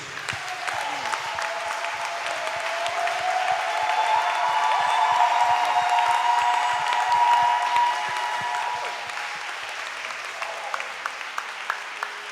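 A church congregation at a special worship service applauds and acclaims God: sustained crowd clapping that swells to a loud peak mid-way and then eases off, with a few cheers mixed in.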